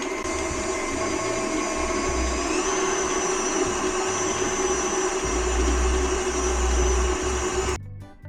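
A stand mixer whirs steadily while creaming sugar and butter for black cake, a constant motor hum that stops abruptly at the very end.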